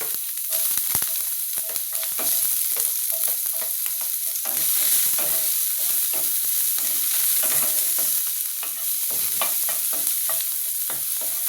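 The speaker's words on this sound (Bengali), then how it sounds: "তো আমি আগে একটু পেঁয়াজগুলো ভেজে নিই।" Onions frying in a pan alongside cauliflower cooking prep, a steady loud sizzle with frequent scraping stirs breaking through, continuous with no talk.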